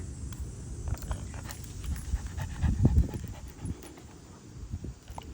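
A 17-month-old Bull Dog Terrier panting steadily up close, quick rough breaths at moderate volume with some faint jangling, no talking.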